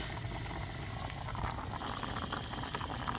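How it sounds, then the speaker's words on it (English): A sugar and spice mixture at a rolling boil, heard as a steady, dense bubbling that stays fairly soft throughout, with no talking. "It's come to a rolling boil."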